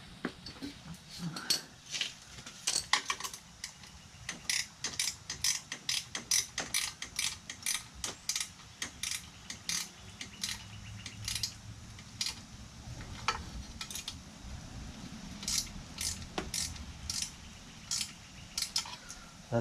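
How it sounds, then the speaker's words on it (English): A wrench ratchets close by as motorcycle exhaust header bolts are tightened during an HMF exhaust install, giving quick, quiet bursts of clicking that stop and start repeatedly. "Now we're going to tighten up the header."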